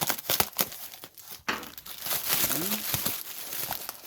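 Cardboard and plastic packaging around a Colwood Detailer pyrography burner being cut open and unwrapped, giving close, busy crinkling, rustling and tearing with a few sharp snaps, plus a faint voice-like tone partway through.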